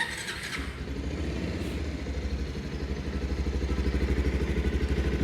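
A Bajaj Pulsar 220F motorcycle engine turns over and settles into a steady, throbbing idle, the rhythmic pulsing growing slightly louder toward the end.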